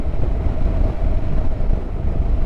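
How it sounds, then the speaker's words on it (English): A Honda NC750X motorcycle's twin-cylinder engine runs smoothly at a steady low rumble, with constant wind buffeting over it and no talking. "Such a smooth engine."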